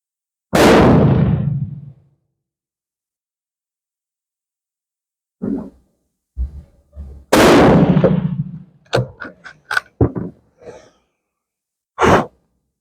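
Two loud, sharp rifle shots from a Carcano cavalry or 91/28 carbine fired outdoors, spaced several seconds apart with long ringing tails, followed by shorter metallic clacks of the bolt being worked.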